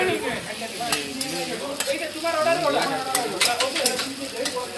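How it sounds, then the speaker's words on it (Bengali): Egg and potatoes frying together in a pan, a steady close sizzle broken by repeated scrapes and clinks of stirring, with some talk over it. "দেখুন, ভেজে নিচ্ছি আলুর সাথে ডিমটা ভালো করে।"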